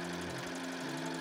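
A sewing machine hems a homemade turtleneck top, giving a brief, continuous buzzing stitch sound close up with a slight shift in pitch partway through.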